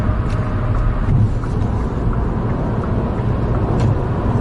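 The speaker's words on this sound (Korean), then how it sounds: "지금 100km를 못 넘고 변속을 이제 힘겹게 하고 있는데 이게 마음에 안 들어요" Inside a Hyundai Casper turbo small car accelerating near 100 km/h, a loud steady engine and road drone fills the cabin as the transmission shifts laboriously, with no clear gear change standing out.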